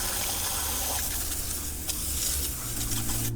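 Water spraying in a steady rinse over a car wheel during a cleaning-chemical test, a continuous hissing gush at moderate level with slight shifts in intensity.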